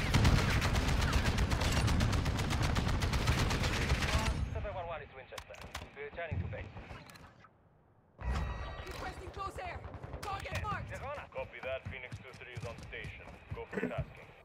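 Gunfire in Call of Duty Modern Warfare 2: dense rapid bursts of automatic fire up front, then scattered shots and clicks, a brief lull, and more sharp bursts, with a voice talking at times.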